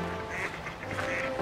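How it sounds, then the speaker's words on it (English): Ducks quack repeatedly in a nasal, chattering burst, fairly close and loud, with no talking, at a cold-water lake in George Rogers Park, Lake Oswego, Oregon, in December. "And we're gonna check out some ducks."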